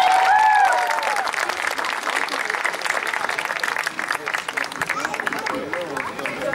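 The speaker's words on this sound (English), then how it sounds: "May we please have a round of applause for her contribution." Audience applause at a self-defense demonstration, a crowd clapping steadily for several seconds, moderately loud with a background murmur of voices, then carrying on as the clapping slowly thins.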